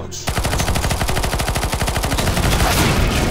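Rapid, evenly spaced gunshots from a sniper rifle in CS:GO competitive play, loud and close, firing in a fast regular rhythm for about three seconds after a brief quiet start.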